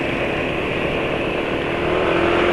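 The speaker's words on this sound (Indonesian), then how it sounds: "Yang jelas dalam kondisi sekarang itu suara motor penulis nggak tercekik." A motorcycle engine idles steadily and smoothly, running without choking, a constant close drone with no break and no voices.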